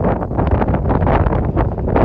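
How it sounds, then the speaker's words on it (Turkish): Strong wind buffets the microphone in loud, rumbling gusts that pulse throughout, with no one speaking. "Rüzgar çok."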